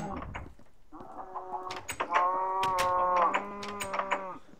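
Sheep in a video game bleat several times in quick, overlapping calls. The nasal, wavering cries are fairly close and moderately loud.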